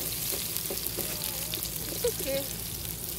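Bottle gourd cooking in a pan gives off a soft, steady sizzle with faint stirring and scraping, fairly quiet and close, and a few brief sounds rise above it.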